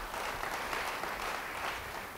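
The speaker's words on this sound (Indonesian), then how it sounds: "Beri tepuk tangan buat Tuhan." A church congregation claps steadily during a sermon, dense applause rising and falling slightly over a couple of seconds, with no speech over it.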